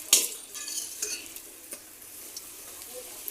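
An aloo paratha fries in a pan with a little oil, making a soft hiss and crackle, with a few light clinks of a spatula against the pan up close.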